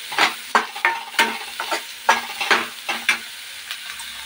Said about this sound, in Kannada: ನೀಟಾಗಿ ತಿನ್ನ ಎಣ್ಣೆಯೊಳಗೆ ಫ್ರೈ ಮಾಡೋಣ.